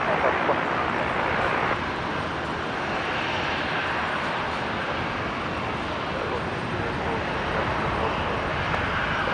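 A Qantas airliner roars down runway 19 right at Brisbane International Airport on its takeoff run, a dense, steady engine rumble filling the whole stretch at constant loudness.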